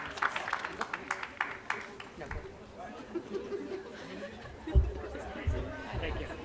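Scattered applause and a few claps ring out from a graduation audience at the Ocean County Achievement Center ceremony, mixed with crowd chatter and murmuring that continue under bursts of clapping.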